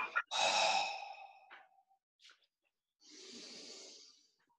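Long audible breaths during a yoga posture, a deep drawn exhale followed by a shorter one and a quieter breath after a pause, close and soft.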